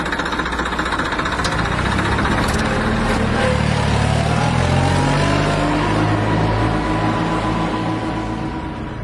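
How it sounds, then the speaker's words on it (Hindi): A tractor engine runs loudly and close, a dense, rattling, continuous drone that rises slightly in pitch as the machine pulls away, with no voices. "कुछ देर में वह ट्रैक्टर स्टार्ट करके वहां से चल देता है।"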